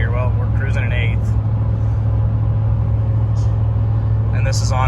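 A Ram 1500 pickup on 35-inch tires, fitted with a K&N Blackhawk intake, cruises down a highway in eighth gear, giving a steady low rumble and road roar, with a person talking briefly at the start and end.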